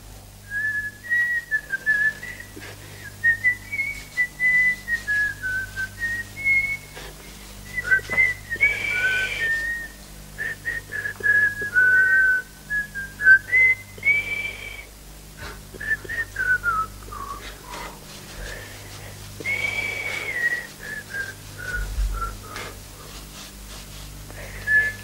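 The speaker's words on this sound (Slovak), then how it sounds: "Ešte slnko poriadne nevyšlo a ty hvízdaš." A person whistles a lilting melody in clear, wavering phrases with short pauses, close and prominent over a soft low background hum.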